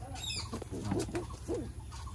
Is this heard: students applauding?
no